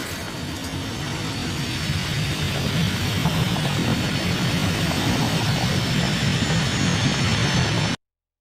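A fighter jet flies across the United States in The Last Man on Earth, a loud, steady roar of broadband rushing noise that holds for several seconds before cutting off abruptly, with no voices.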